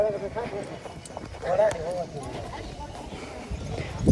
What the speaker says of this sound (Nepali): घोडा पनि छ क्या फेरि यहाँ